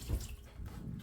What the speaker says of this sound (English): I'm going to now pour my kettle boiling water on my press and cheesecloth